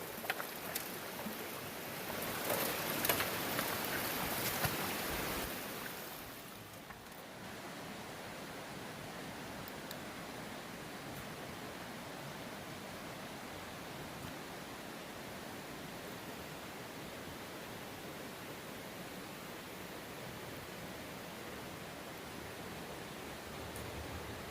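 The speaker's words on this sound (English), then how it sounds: "Beautiful waterfall too." A waterfall on the East Fork San Gabriel River roars as a steady, broadband wash of falling water, louder and brighter in the opening seconds and then settling into a constant rushing hiss.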